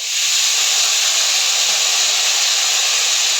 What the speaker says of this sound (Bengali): এবার আমি এর মধ্যে ছোলাগুলো দিয়ে দেবো।